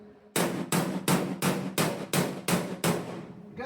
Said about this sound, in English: don't forget I'm going to hammer on you